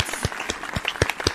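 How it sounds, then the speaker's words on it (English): A small group gives a short burst of applause. The claps are dense and overlapping, close and fairly loud, with no voices over them. "another round of applause for Eve"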